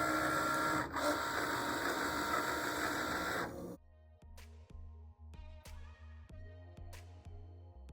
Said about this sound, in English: Now that the scoring has finished, I'm going to remove the scoring tool and insert the fine point blade.